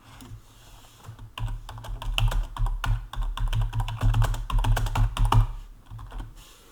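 Fast typing on a computer keyboard, a dense run of close, crisp key taps with brief pauses, heard alone without any talking.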